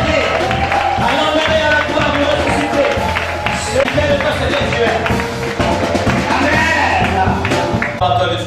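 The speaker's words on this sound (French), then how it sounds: "Une acclamation d'adoration." A church congregation at a pastor's consecration in Togo acclaims and applauds, a dense, loud wash of clapping, cheering and crowd voices that continues without pause.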